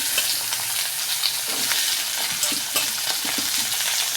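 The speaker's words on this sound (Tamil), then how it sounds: "பிரண்டை அதோட கலர் மாறுற வரைக்கும் நல்லா எண்ணெயில் வறுத்து எடுத்துருங்க." Pirandai (adamant creeper) stems fry in hot oil, giving a steady, close crackling sizzle with scattered pops and occasional stirring scrapes, and no voices.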